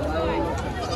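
A goat bleats once at a busy riverfront livestock market in Ahmedabad, a short wavering call close by, partly under people talking.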